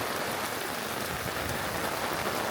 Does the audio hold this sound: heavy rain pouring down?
yes